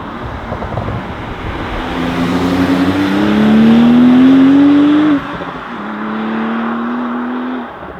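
A Porsche 911 Sport Classic of the 992 generation with a seven-speed manual gearbox accelerates hard in second gear, its engine note rising loud and close. After a brief dip it climbs again.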